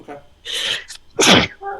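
A sharp, loud sneeze bursts out close by during a tabletop Dungeons & Dragons session, surrounded by brief bits of casual talk from people at the table.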